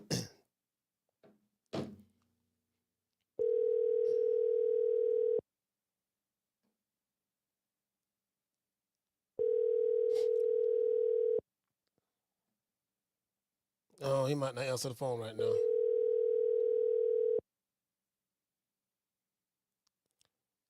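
A telephone call is being placed, and a steady ringback tone sounds in three separate bursts of about two seconds each, with long silences between them. Someone speaks briefly near the start and again over the third ring.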